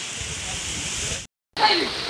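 Heavy monsoon rain pours down steadily outdoors in a village during a temple festival, a dense close hiss that cuts out briefly and then returns.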